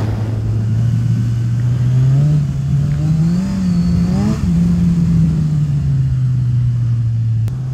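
A Kawasaki Z1000 motorcycle engine rumbles at idle, then revs up in a couple of quick blips before settling back to a steady throb.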